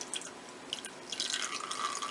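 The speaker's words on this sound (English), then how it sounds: "So just pour a little bit of it in there." Liquid soap mixture poured into a container while making cold process soap, giving soft dripping and trickling sounds that thicken toward the end, fairly close and alone.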